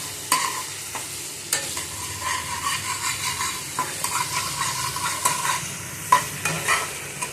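Bitter gourd, eggplant, potato, onion and green chilli fry and sizzle in fish oil while a spatula stirs them, its scraping strokes and clinks against the pan recurring in a steady, close rhythm.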